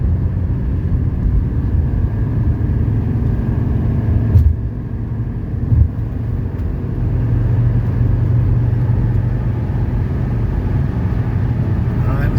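A 1985 Mercedes 300CD coupe accelerating at full throttle on a highway, a steady loud low engine drone with road and wind roar heard from inside the cabin, continuous throughout with a couple of faint knocks.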